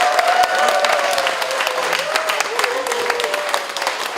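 Audience applause after a dance performance at a Korean book launch event, steady clapping across the whole stretch with a few faint voices mixed in.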